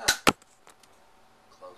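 A foam dart blaster fires indoors: two sharp, close pops in quick succession, then faint clicks and light mechanical rattles.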